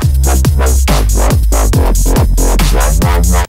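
Loud dubstep wobble bass pulses in a repeating 'wap wap wap' rhythm, heavy and distorted, several throbbing hits back to back with no voices.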